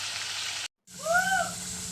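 Potatoes sizzle steadily in hot oil over a clay stove, a continuous crackling hiss that breaks off briefly into silence and then resumes with a faint high tonal whine.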